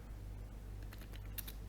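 A handful of quick keystrokes tap on a computer keyboard while entering a server command, faint clicks clustered near the end over a steady fan-like hum.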